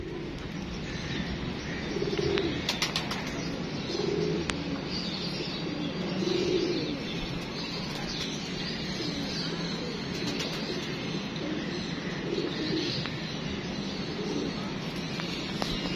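Pigeons coo softly on a rooftop, their low calls repeating in separate bursts against a steady background hum, with faint chirps and a brief flutter of wings.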